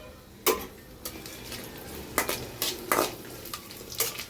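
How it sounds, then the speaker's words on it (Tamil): Dried red chillies frying in a pan on a medium flame: a soft steady sizzle runs underneath while sharp clicks and taps from stirring land every half second or so. "வரமிளகா வந்து எப்போவுமே மீடியம் ஃப்ளேமில் வச்சுட்டு போட்டுக்கணும், இல்லைன்னா கருப்பாயிரும்"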